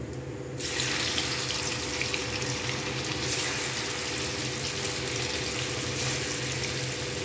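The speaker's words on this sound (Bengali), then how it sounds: "এবার একে একে এর মধ্যে একটু নুন আর একটু হলুদ দিয়ে আমি পনিরগুলোকে আস্তে আস্তে ছাড়ব" Paneer pieces seasoned with salt and turmeric go into hot oil for shallow frying, giving a steady, close hiss and sizzle that holds for several seconds with no talk.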